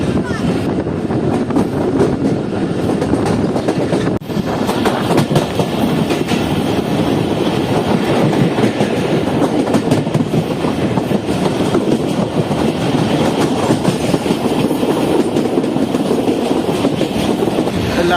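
The Karakoram Express passenger train rolls at Jungshahi railway station with a loud, continuous rumble and rapid rail clatter, buffeted by wind noise, and a voice is faintly audible underneath.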